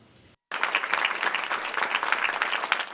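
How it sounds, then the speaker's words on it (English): A crowd bursts into sustained applause as a nurse leaves Emory University Hospital in Atlanta, dense steady clapping after a brief pause. "Amber Vinson received a round of applause as she left Emory University Hospital in Atlanta today"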